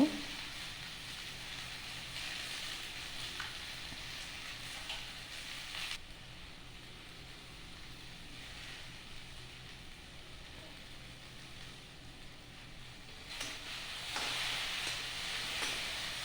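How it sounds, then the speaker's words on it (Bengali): Okra with salt, turmeric and slit green chilli sizzles in a pan, a steady faint hiss of frying running throughout with little change, no stirring strokes standing out. "ভেন্ডিগুলো 3-4 মিনিট ভালোভাবে নেড়ে চেড়ে ভেজে নিতে হবে।"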